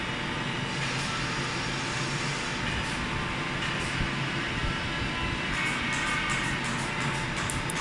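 An NK260 CNC router machine dry running without cutting gives off a steady, continuous mechanical whir and hum at an even level throughout, with no talk.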